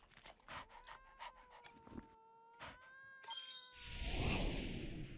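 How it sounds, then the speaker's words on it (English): An unhappy video game cat gives a series of short whiny vocal calls with a tonal whine, followed by a chime and a rising noisy swell. "The cat isn't happy."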